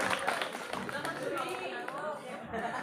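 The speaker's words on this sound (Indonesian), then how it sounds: "Ya, tepuk tangan." Audience clapping at a gender equality outreach session, quick clapping blended with chatter and voices from the group, close and busy throughout.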